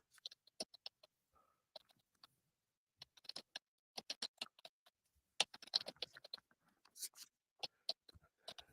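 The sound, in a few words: typing on a computer keyboard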